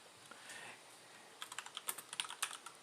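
Computer keyboard typing code, a faint quick burst of crisp key clicks in the second half after a quieter start, close and alone.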